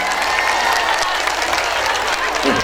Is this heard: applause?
yes